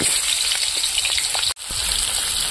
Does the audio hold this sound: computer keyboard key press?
no